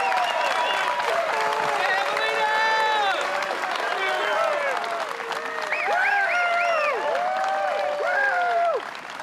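A crowd at a disc golf world championship final applauds steadily as a player approaches the basket, sustained clapping and scattered cheers filling the whole stretch, with voices calling over the top.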